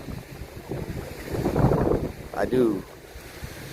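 Breezy-day wind gusting across an open microphone at a Florida theme park, a steady rumbling buffet that swells to a louder gust midway, with a brief voice and faint crowd murmur underneath.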